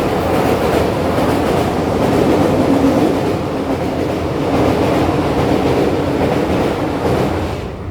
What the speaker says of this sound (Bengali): ওই দেখো কথা বলতে বলতে ট্রেনও চলে এসছে